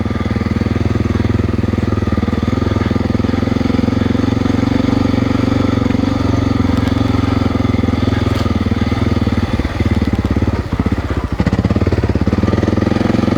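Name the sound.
Honda XR600R motorcycle being ridden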